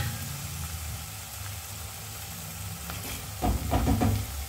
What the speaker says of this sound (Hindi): तो अभी इसमें मैं मिक्स कर देती हूँ।